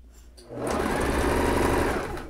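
Sewing machine running a steady straight seam around the neckline of a child's dress, a fast even whirring hum that starts after a brief pause and holds close and loud with no talking.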